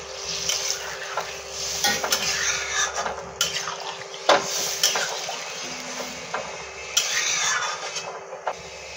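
Water from washing eggs poured into a pan of fried spiced vegetables, potato and cauliflower, giving a loud hissing sizzle with bursts of splashing and stirring clatter, continuous throughout.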